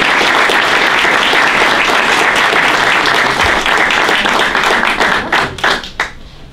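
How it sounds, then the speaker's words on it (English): A crowd at a women's basketball coach meet and greet gives a loud, dense round of applause that holds strong, then thins into scattered individual claps before fading out. "let's give her a round of applause"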